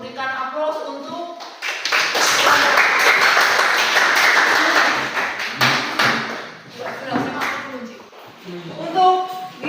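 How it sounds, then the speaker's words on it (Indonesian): A classroom group gets sustained applause from students after presenting, with many hands clapping loudly for several seconds, then fading into scattered claps and talk. "sebelum duduk berikan aplaus untuk"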